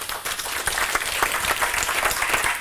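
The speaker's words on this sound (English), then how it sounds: "A big applaud, thank you." An audience claps after a talk on global navigation satellite systems, a close, dense round of applause that continues evenly throughout without any speech.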